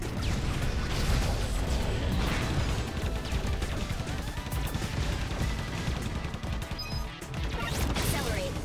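Rapid, dense gunfire and crashing impacts fill a chaotic neon shooter battle in Assault Android Cactus, continuous and loud with scattered sharper hits across the whole stretch.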